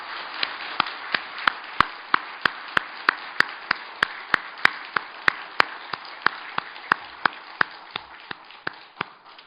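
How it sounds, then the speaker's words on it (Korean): A church congregation claps in unison, a steady train of sharp, evenly spaced claps at roughly three per second. The claps are loud and close at first, then taper off slightly toward the end. "우리 하나님께 영광의 박수를 올려드리겠습니다."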